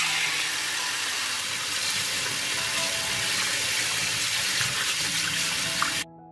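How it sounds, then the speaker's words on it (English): A kitchen tap runs steadily while cleaned grapes are rinsed again under it, a loud, close, continuous rush of water that cuts off abruptly at the end. "I will wash the cleaned grapes once more."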